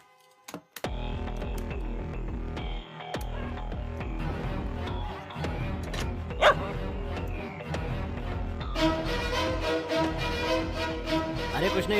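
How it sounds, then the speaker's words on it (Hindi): A neighbour's dog barks repeatedly at night in a Hindi film scene, sharp yaps scattered through the clip amid other layered film sound that grows busier toward the end. "बगल वाला कुत्ता भौंक रहा है"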